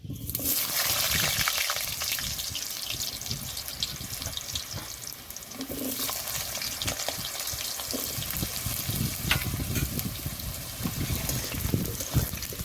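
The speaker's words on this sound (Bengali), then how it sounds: "এবার আলুগুলো ভালো করে ভেজে নেব" Potatoes frying in hot oil with panch phoron for a pumpkin and potato curry, a steady loud sizzle and crackle, close and continuous, with occasional stirring scrapes.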